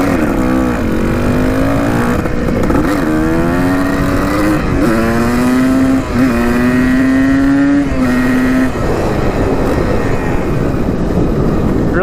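A 1986 dirt bike ridden on a trail, its engine droning loud and close with repeated rising revs, brief dips at gear changes and a steady buzzing tone that cuts off near the end.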